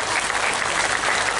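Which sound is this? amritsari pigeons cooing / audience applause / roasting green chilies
audience applause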